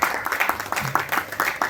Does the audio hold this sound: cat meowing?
no